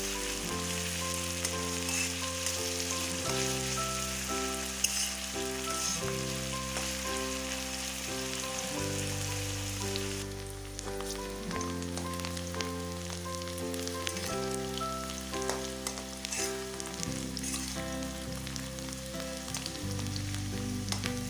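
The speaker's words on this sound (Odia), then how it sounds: "ପିଆଜକୁ ନାଲି ହେଲା ପର୍ଯ୍ୟନ୍ତ ଭାଜି ନେବା।" Onions frying in a pan while cooking chicken with potato jhal, a steady soft sizzle and crackle running throughout under background music, with no speech.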